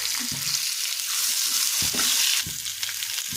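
Capsicum sizzles and fries in a pan with green chillies, a red chilli and onion, a steady close hiss with a few stirring scrapes and no talk.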